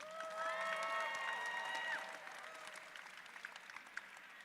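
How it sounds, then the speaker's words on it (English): Wedding reception guests clap for the bride's and groom's parents, a faint, distant patter of applause that thins out after a couple of seconds, with a sustained tonal ring over the first half. "please, a massive round of applause"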